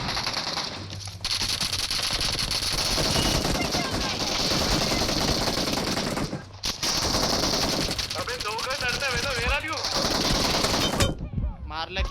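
Gunfire in the BGMI mobile battle game: dense, rapid bursts of automatic fire with brief pauses, loud and continuous, while players talk over it.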